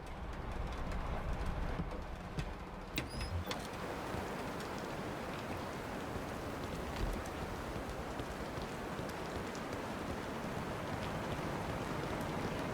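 Steady video-game rain patters continuously on surfaces, a dense even hiss throughout with a few faint chirps near the start.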